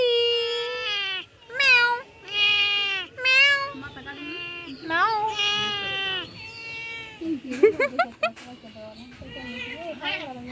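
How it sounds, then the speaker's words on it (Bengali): Several cats meow repeatedly at close range while fish is being cut, with drawn-out, wavering cries coming one after another and fainter household noise in between. "এই যে তিনটা বিড়াল এসে বসে আছে"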